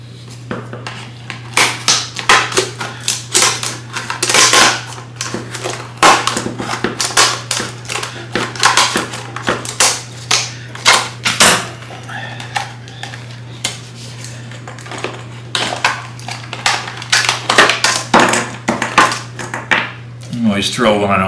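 Packaging of a Klein circuit finder accessory kit being opened produces a long run of crinkling, tearing and clattering bursts, close and loud, with plastic knocks throughout.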